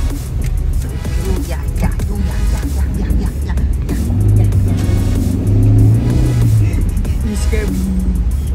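A big truck rumbles past on a road, a loud low engine roar that builds and fades over several seconds, mixed with general traffic noise and some voices.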